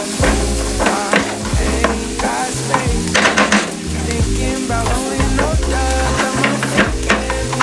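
Sliced onions sizzle loudly in a hot pan while a utensil stirs them with repeated scraping clatters, a steady crackling fry close by.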